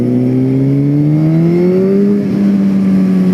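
Suzuki GSX-R1000 sport motorcycle engine pulling steadily under acceleration, a loud close drone whose pitch climbs gradually, then drops briefly at a gear change before holding again.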